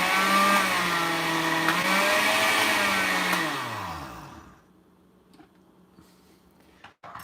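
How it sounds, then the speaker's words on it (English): An old kitchen blender blending habaneros whirs loudly with a steady motor whine for about four seconds, then winds down and stops, leaving quiet room noise and a few small clicks. "I'm going to blend these. It's going to be loud for a second"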